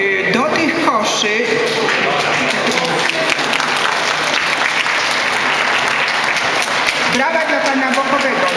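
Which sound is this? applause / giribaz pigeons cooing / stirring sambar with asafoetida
applause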